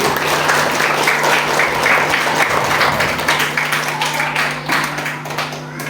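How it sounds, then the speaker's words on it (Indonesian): Lively audience applause at a school farewell ceremony for sixth graders at an elementary school, a loud dense wash of clapping for six seconds that tapers slightly toward the end, with a faint hum beneath. "Tepuk tangannya rame lagi."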